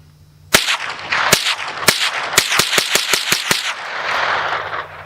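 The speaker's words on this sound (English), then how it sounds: "So let's put a few rounds through it, check the reliability, get these sights sighted in" A Winchester Wildcat .22 rifle fires at an outdoor range: three spaced shots, then a quicker string of about nine sharp, close cracks, each ringing briefly before a fading tail.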